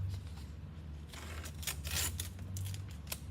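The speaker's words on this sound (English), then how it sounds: "Cut it with that straight blade." A straight blade cuts through material in a few soft, close slicing strokes over a low steady hum, with no talking.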